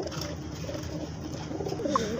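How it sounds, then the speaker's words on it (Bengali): Black Sirajee pigeons coo softly and repeatedly at close range, low throaty murmurs overlapping in a steady rhythm, with a brighter bird note near the end and no talking. "দর্শক বন্ধু দেখতে পাচ্ছেন এখানে 4 পিস ব্ল্যাক কালারের সিরাজি কবুতর আছে"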